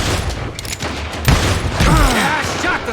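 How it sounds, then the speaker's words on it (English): Gunfire from the Wild West shooter game Call of Juarez: Gunslinger: several sharp close shots in quick succession amid a busy mix of clatter, with voices speaking over parts of it. "I shot the son of a bitch!"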